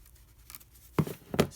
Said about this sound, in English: I'm just going to have to trim a little bit off so that I'll be able to fold it back